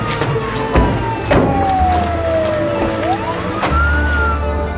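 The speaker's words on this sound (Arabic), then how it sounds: "تعال تعال شوف سيارة الإسعاف" Ambulance siren wailing through a residential street, its rising and falling tone sustained for several seconds at moderate distance over low background rumble.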